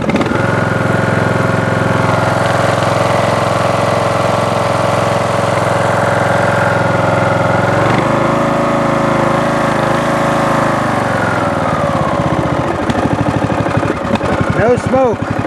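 Briggs and Stratton small engine, freshly repaired head gasket, idling cold: a loud, steady close-up drone that drops to a lower idle partway through, then turns rougher and more uneven near the end, with someone talking over it.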